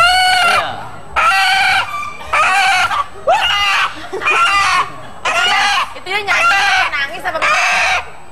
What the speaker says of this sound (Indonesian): Ini ayam Black Sumatera.